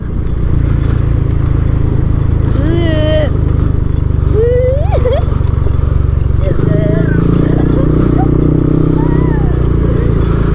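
A motorcycle carries four riders along a cemented rural road, its engine a steady drone under loud talk, shouts and laughter, with the engine note shifting partway through.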